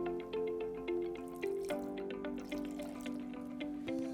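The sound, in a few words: small amount of water poured into cooking pot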